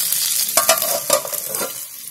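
Okra with onions stirred in a hot pan, frying with a steady close sizzle and several scraping stir strokes, no talking.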